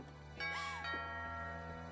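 A doorbell rings in the video game What Remains of Edith Finch: one quiet chime with lingering tonal ringing in an otherwise still room.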